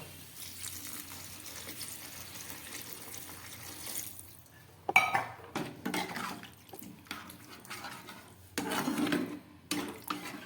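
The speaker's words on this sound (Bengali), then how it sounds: "এবার আমি দিয়ে দিচ্ছি জল" Water poured into a pot of mushroom and potato curry after the yogurt masala is cooked down: a quiet hiss gives way to splashing, sloshing pours in a few bursts, close by.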